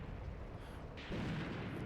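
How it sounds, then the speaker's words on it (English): Artillery shells burst in the WW2 tank combat game Graviteam Tactics, a heavy, rolling rumble of explosions that swells louder partway through, with no voices. "The artillery begins to fall."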